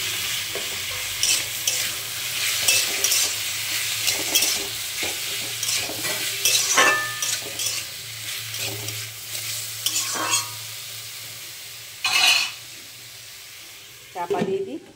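Potatoes being stirred in a frying pan over low heat, with a steady sizzle beneath repeated scraping and clattering strokes of the spoon at an uneven rhythm, close and moderately loud, with a sharper knock near the end.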